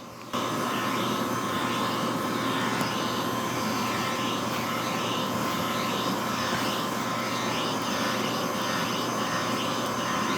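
A steady, loud motor whir with airy hiss runs continuously from an iPettie B6 pet hair vacuum groomer running close by on a dog, no talking heard.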